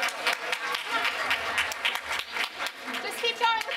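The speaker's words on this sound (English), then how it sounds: "Just keep going with the applause" Applause from a forum audience in a conference hall, moderately dense clapping that carries on steadily, with a speaker's voice over it.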